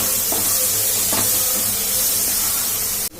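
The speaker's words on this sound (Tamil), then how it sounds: "இடிக்கு இஞ்சி பூண்டு பேஸ்ட் போட்டு நல்லா வதக்கணும்" Ginger garlic paste sautéing in a hot pan for chicken curry gravy: a loud, steady hiss and sizzle close up, with a few soft scrapes, cutting off sharply at the end.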